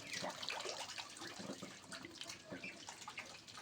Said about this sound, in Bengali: ওই হাঁসটা দেখুন ভাই গোসল করতেছে এই তো আবার যাচ্ছে আর একজন পানি খাইতে দেখুন গোসল করতেছে আর খাচ্ছে